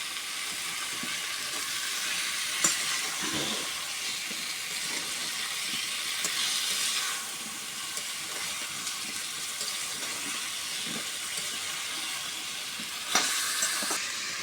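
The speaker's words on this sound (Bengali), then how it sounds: "কাঁচা কলা পটল আলু দিয়ে দিই মশলার সাথে তরকারিটা মিক্স করে নেওয়া" Green banana, pointed gourd and potato sizzle as they are stir-fried with spices in oil. A constant close hiss runs under occasional scrapes and knocks of a spatula against the pan, with no talk.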